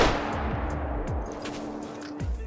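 A single powerful 4.7 rifle shot cracks out while hunting banteng in theHunter: Call of the Wild, followed by a long echoing rumble that rolls away and fades over a couple of seconds.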